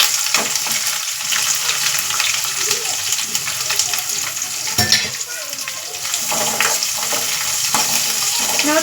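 Onion and green chillies fry with curry leaves in hot oil, giving a steady close sizzle with occasional stirring scrapes and brief louder bursts throughout.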